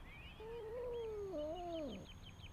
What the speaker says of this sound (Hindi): यहाँ एक बिल्ली दरख्त में फंस गई है